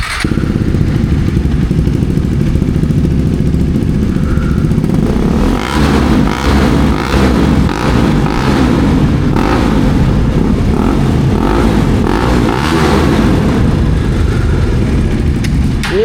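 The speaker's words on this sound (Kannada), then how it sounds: "ಈಗ ಕಂಪ್ಲೀಟ್ಲಿ ರೆಡ್ ರೋಸ್ಟರ್ ಸೈಲೆನ್ಸರ್ ಕೂತೈತ್ರಿ ಪೂರ ಆಗೈತೆ ರೆಡಿ ರೆಡಿ ಸೌಂಡ್ ತೋರ್ಸೋಣ ಅವ್ನಿಗೆ" A motorcycle fitted with an aftermarket Red Rooster silencer idles and revs repeatedly, with a loud, throaty exhaust roar rising and falling in short bursts, close by.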